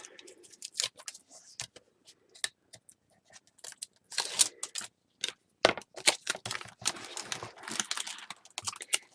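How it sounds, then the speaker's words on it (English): Adhesive tape backing being peeled away while covering the spine-to-cover joins of a handmade winter mini album, heard as a series of close, sharp crackly rips and ticks in irregular bursts, with no talking. "Tape backing off."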